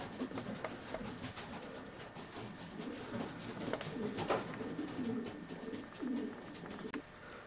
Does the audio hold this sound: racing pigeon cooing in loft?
yes